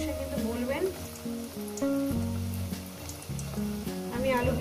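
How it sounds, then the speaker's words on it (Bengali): Potato pieces fry in hot oil with a soft, steady sizzle under a clattering background, fairly quiet and close. "আলুগুলোকে আমি ভেজে তুলে নেব।"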